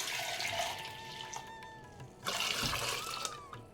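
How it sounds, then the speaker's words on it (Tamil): Filtered cooking water pours steadily into a pot of bottle gourd soup with a continuous splashing rush that briefly surges louder partway through, heard up close. "நம்ம வேக வச்ச தண்ணியை ஃபில்டர் பண்ணி வச்சோம் இல்லையா அதையும் இப்போ சேர்த்துக்கலாம்"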